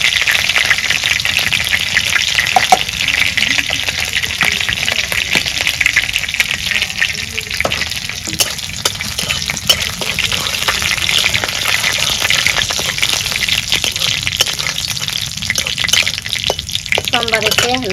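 Cumin seeds frying in hot oil in a pan for a village-style taro stolon curry with dried fish, a steady dense crackling sizzle running throughout with faint clinks and a brief voice near the end.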